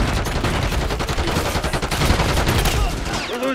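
Gunfire in a Call of Duty match rattles in dense, continuous volleys, loud and close, with overlapping shots forming a rapid machine-gun-like barrage.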